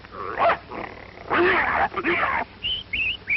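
A man imitates a dog fight with his voice, snarling, growling and yelping in rough bursts followed by high whining yips, loud and close in an old 1942 western film soundtrack.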